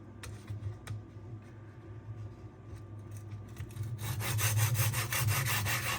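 A knife blade draws through a Sharpworx utility sharpener in soft, close strokes: faint scattered scrapes at first, then brisker rhythmic back-and-forth grinding that grows louder toward the end.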